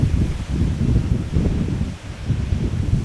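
Gusty wind at an outdoor airport plane-spotting spot, a steady low rumble of buffeting air with rustling surges that rise and dip, close to the microphone and alone, with no talk.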